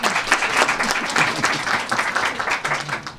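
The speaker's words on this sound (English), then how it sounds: "Let's give him a nice round of applause." A crowd applauds warmly at a Westchester County government announcement, many hands clapping in a dense, steady patter that stays loud throughout.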